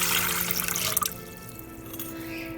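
Warm water is poured into a bowl in a home kitchen while yeast is being prepared for bread. The splashing pour is steady for about a second and then stops, leaving a quieter hum.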